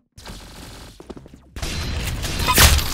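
Gunfire in the Roblox game Arsenal: a rattling burst of rapid shots, then a louder, denser volley that swells toward the end with a sharp crack near the close.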